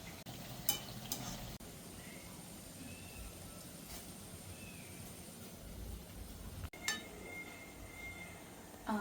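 Onions sizzle as they fry golden brown in a pan on a traditional village stove for chicken biryani, a soft steady crackle with occasional clinks of a metal spoon stirring.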